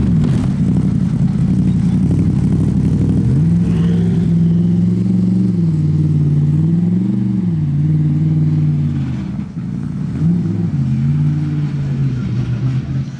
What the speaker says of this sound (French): Une SLS de course comme celle-ci, avec l'échappement là sur le côté